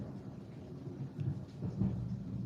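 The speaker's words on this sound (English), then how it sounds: "Did y'all hear that lightning?" Thunder from a lightning storm rumbles low and faint in the distance, a soft rolling growl that swells slightly toward the end, with rain-like hiss beneath.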